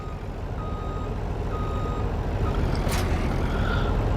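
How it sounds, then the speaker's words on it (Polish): Semi-truck with trailer reversing in Farming Simulator 19, steady reversing beeps repeating over a constant low diesel engine rumble, close and moderately loud, with no talk. "tym tirem ciężko się cofa z tą przyczepą"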